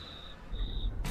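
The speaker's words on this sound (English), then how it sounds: "Why do I hear crickets?" Crickets chirping, a steady high-pitched trill in two long bursts, fairly faint and alone, cut off by a sudden noise at the end.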